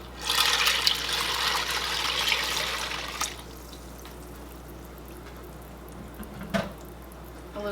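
Milk pours into a crock-pot already holding green chilies and butter, making a steady liquid splash for about three seconds before it thins to a quiet trickle and stops, close and fairly soft, with no voices.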